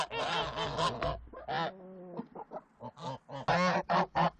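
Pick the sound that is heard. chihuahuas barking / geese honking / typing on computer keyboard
geese honking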